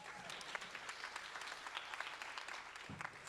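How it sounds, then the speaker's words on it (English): An audience claps in a steady patter of many hands, fairly faint and distant, continuing through the whole short stretch without voices over it. "If you guys could actually give yourselves another round of applause."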